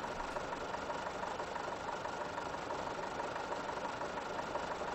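A 45-year-old harvester in Farming Simulator 15 idles with a steady, rough engine drone. The sound is continuous and even, close and moderately loud, with no voices.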